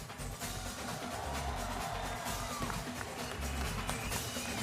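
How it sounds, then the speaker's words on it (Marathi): Audience applause at the opening ceremony of a Chicago gathering, a steady dense wash of clapping from a large crowd, continuous and fairly loud throughout. "आणखीन एकदा टाळ्या"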